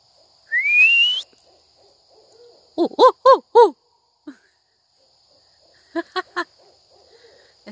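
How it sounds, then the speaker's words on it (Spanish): An owl hoots in two short bursts of three or four calls, with a rising whistle and faint insect buzz in a quiet night background. "Es un búho."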